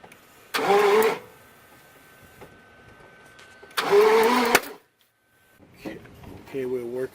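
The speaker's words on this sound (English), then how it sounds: "I'm going to go in there and turn the engine over." A car engine is cranked over twice in short, loud bursts with a pause between, during work on a distributor that had a broken piece glued back in. A voice speaks briefly after the second attempt.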